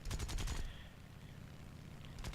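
A short machine-gun burst from an A6M3 Zero fighter plane in War Thunder, a quick rattle of rounds at the start, then engine drone, with a second burst creeping in at the end.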